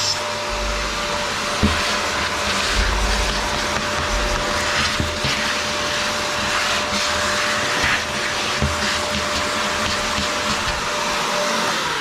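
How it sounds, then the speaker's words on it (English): A vacuum cleaner runs steadily and loudly up close for the whole stretch, a constant droning whine with occasional bumps and rattles as it sucks up debris in a workshop. "I get my vacuum cleaner here real quick. I need to vacuum up this schlonk"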